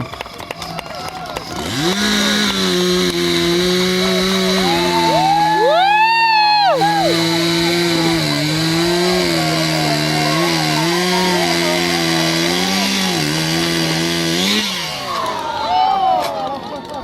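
A chainsaw revs up and roars loudly as it cuts through a log in a lumberjack festival competition, its engine pitch dipping and rising under load before dropping off near the end.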